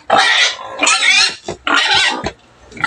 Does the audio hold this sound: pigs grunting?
yes